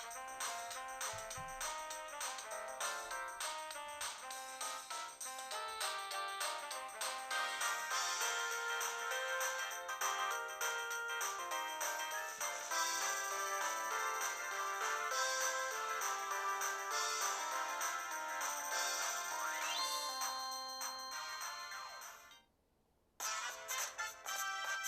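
A quiet, bright electronic startup jingle from the McDonald's eCDP Nintendo DS game plays as a continuous melodic tune, then drops out briefly near the end before resuming.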